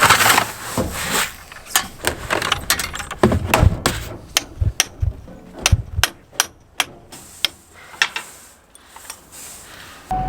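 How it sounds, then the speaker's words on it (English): Heavy metallic blows from a 3-pound sledgehammer ring out repeatedly at an uneven pace, each strike sharp and loud, with rattling and clanking between hits. "Here's a 3-pound sledgehammer right now."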